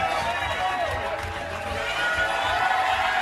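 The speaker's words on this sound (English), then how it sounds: "This crowd is crazy" A crowd roars and cheers at a PBA bowling event, with a dense sustained wall of voices and whoops and some speech mixed in.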